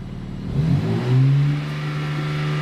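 A crash-damaged BMW M3 Competition engine revs up from a steady idle, the note rising and swelling before settling back to a loud, even hum, close by with no talk.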